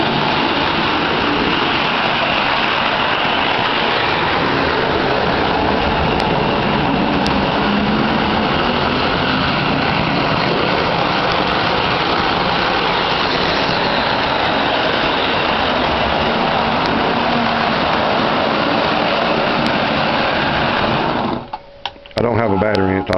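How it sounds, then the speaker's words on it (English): A Lionel model train rumbles steadily along its track with a continuous mechanical whir and clatter, loud and close, before it briefly cuts out near the end. "you can feel the table shaking when that thing comes around"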